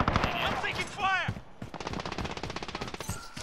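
Gunfire in the video game Call of Duty Modern Warfare: dense, rapid automatic fire crackles continuously, with other battle sounds mixed in.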